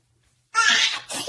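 A man's single loud, sudden sneeze bursts out close after near silence, followed a moment later by a shorter breathy vocal sound.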